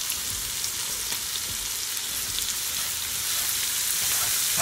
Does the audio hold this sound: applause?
no